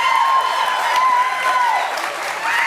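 A studio audience at a taping of a workout and fitness show cheers and applauds loudly and steadily, with whoops and whistles rising over the crowd noise throughout.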